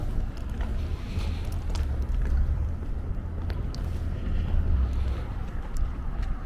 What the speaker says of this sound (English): There's a bit of a wind on my back right now.